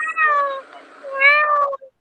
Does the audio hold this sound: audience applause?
no